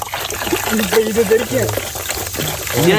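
Soda foams and fizzes as it is poured into a glass for a virgin mint mojito with lemon, a continuous close trickling hiss running under overlapping talk.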